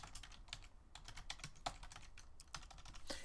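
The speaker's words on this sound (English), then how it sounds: "I can just type in there" Steady typing on a computer keyboard while writing a reply message, continuous close keystrokes with irregular rhythm and slightly louder accented taps scattered throughout, no voices.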